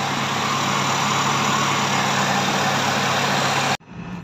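A Hyundai engine idles steadily after a fresh oil pressure switch replacement, a constant close hum that cuts off abruptly near the end, leaving a quieter background.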